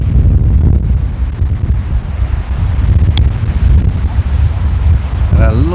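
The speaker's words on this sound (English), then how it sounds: "The wind's strong, isn't it?" Strong wind buffets the microphone on an open golf course, a steady loud low roar that runs without pause and swells slightly near the end.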